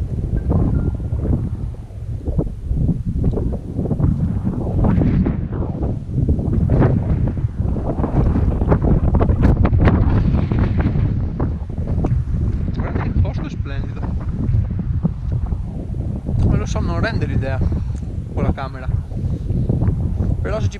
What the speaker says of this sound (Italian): Tira un vento porco